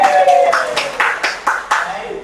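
Sharp claps from a group land in a steady rhythm, about six or seven, under a voice speaking at the start.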